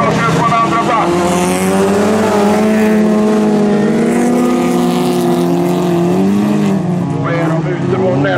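Folkrace cars racing around a track at Vimmerby, several engines roaring and shifting pitch continuously as they pass, loud and sustained, with an announcer's voice running over the top.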